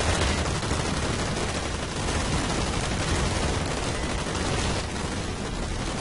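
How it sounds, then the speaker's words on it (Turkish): Continuous rapid gunfire in the online shooter Blacklight: Retribution, with overlapping bursts, loud and dense, with no pauses for the full stretch. "Silah sesleri kafanızı çok ağırtabilir."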